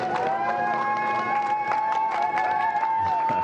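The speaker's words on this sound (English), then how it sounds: "Small crowd, but big cheers" Small crowd cheering and clapping steadily as astronauts wave before a SpaceX launch, with a continuous dense roar of voices and applause heard from close by.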